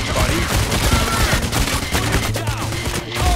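Dense, continuous gunfire fills a firefight in the video game Payday: The Heist, overlapping bursts and shots layered with game noise and faint voices throughout.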